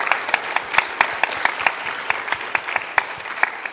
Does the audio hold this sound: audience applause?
yes